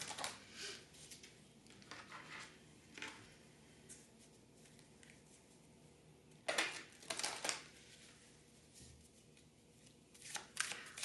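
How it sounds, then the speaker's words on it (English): Oracle cards are shuffled and pulled by hand, with soft riffling bursts and flicks coming in uneven clusters, close and quiet, with pauses between handfuls. "so I'm going to pull 2 more oracle cards."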